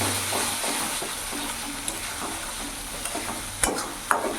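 Tilapia pieces coated in mustard and green chili paste fry in hot oil in a pan, sizzling steadily up close while a spatula scrapes and clinks against the pan now and then.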